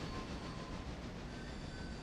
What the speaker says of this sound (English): It's definitely the heaviest logging train I've done.